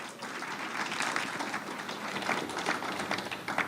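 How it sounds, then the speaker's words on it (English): Steady audience applause for a discussion panel on respectful, action-oriented partnerships, a dense even patter of many hands held at a constant level for a few seconds with no talk over it. "Let's give them all a round of applause."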